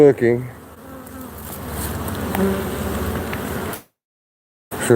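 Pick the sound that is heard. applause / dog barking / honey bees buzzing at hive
honey bees buzzing at hive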